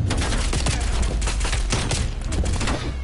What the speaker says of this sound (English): MP5 is my fucking shit, though. With the suppressor, it's a fucking demon.